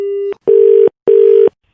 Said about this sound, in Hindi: शायद फोन कट गया था ना भाई साहब